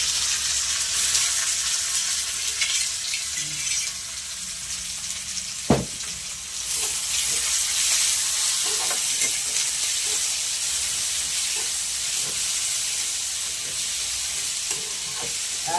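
Tomatoes go into a pan of fried onions and set off a steady, loud frying sizzle, with one sharp knock of the utensil early on and scattered scraping and stirring after it. No one speaks.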